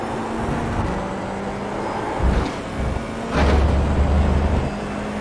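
Formula 4 race car engine on a hot lap around Fuji International Speedway without the chicane in iRacing, a steady droning engine tone with a couple of louder surges and low rumbles, close and continuous with no talk.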